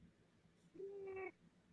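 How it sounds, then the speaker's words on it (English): A single short cat meow, clear and fairly close, rising briefly over quiet room noise. "Okay, we got a meow from him."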